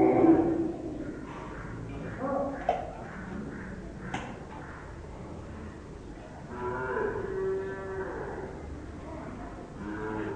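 Cows mooing at a crowded old-age shelter for cattle at Madras Pinjarapoli, several long lowing calls from nearby animals overlapping one another, with a narrator's voice running underneath.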